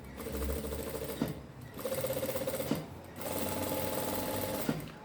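A sewing machine stitches a round bag pocket closed at presser-foot width, running in three steady bursts with brief pauses between, close and clear.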